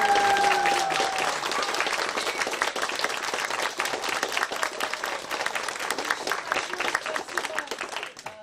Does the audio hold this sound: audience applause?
yes